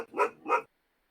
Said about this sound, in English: Like a dog being very angry and barking for no reason.